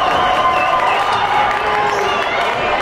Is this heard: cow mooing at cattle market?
no